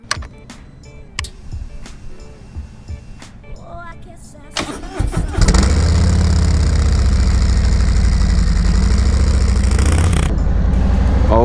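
A 2020 Harley-Davidson Tri Glide Ultra trike is handled with light knocks and rustles, then its engine cranks and catches about halfway through. It settles into a loud, steady, rumbling idle that runs to the end.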